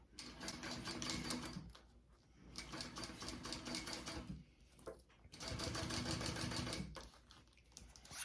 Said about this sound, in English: here I go with my top stitching on the strap